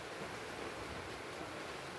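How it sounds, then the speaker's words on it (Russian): Strong wind blows in Antalya after rain, making a steady, faint broadband rush with no distinct events and no voices. "Вот ветер сильный"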